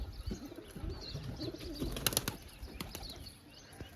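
A flock of domestic pigeons being released from their loft, wings flapping in bursts as they take off and fly upward, with some soft cooing and chirps nearby.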